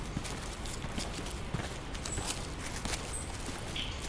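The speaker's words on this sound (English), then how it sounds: "Just the footsteps in the forest." Footsteps crunch through a forest in the horror film In a Violent Nature, a steady walking rhythm of close, moderately loud steps over continuous outdoor woodland ambience, with no voices.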